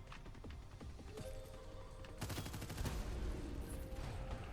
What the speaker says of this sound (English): I just heard something shooting